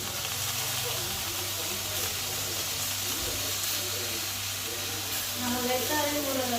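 Manathakkali (black nightshade) greens drop into a hot frying pan and give off a steady, broad sizzle and hiss that keeps going from start to finish at moderate loudness.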